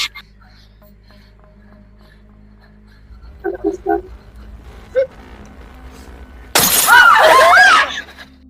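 An expensive drinking glass suddenly shatters near the end with a loud, bright crash and tinkling fragments, after a quiet stretch of faint thumps and short tonal sounds in a horror film scene.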